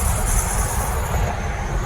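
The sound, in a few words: car brakes squealing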